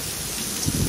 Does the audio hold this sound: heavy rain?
yes